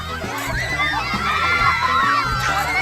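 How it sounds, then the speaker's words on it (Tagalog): Children shout and squeal together outdoors in a rural neighbourhood in the afternoon, a steady, lively crowd noise with overlapping young voices throughout. "nababasag ng mga sigawan."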